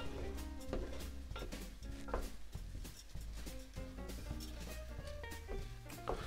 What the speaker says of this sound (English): So we're just gonna keep on stirring it like that. Give it a nice toast.